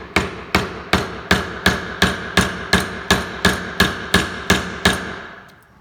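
Mallet striking a very sharp chisel held at an angle into wood clamped firmly in a vise, a dozen loud, evenly spaced sharp knocks, each with a short ringing decay, alone without talk.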